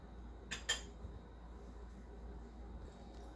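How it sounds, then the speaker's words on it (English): A lid goes onto a jar of preserved spring onion leaves with two quick clinks close by, then a quiet room hush. "And then I'm going to put my lid on."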